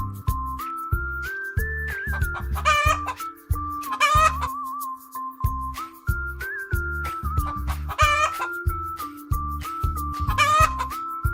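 Farm hen clucking in repeated short bursts with a few louder, drawn-out calls, close and clear over a steady background tone, with no talk.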